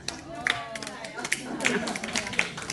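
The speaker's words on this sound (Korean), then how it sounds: "박수 한번 받아주세요." Audience applause breaks out at a Korean association's 49th general meeting, a brief burst of scattered claps mixed with voices and crowd chatter.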